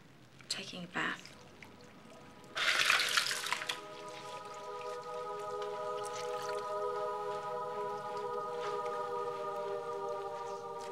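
A bath filling from the tap, with a steady, fairly quiet rush of running water that settles into an even flow after a few brief splashes and knocks at the start.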